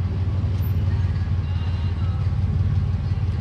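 A car pulls away on a street, a steady low engine rumble at moderate distance, fairly even throughout with no talk over it.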